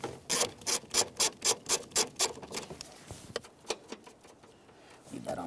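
On a 2003-2007 Honda Accord, a 14mm ratcheting wrench clicks rapidly and rhythmically on the rear strut top nuts, then slows to scattered clicks and fades near the end.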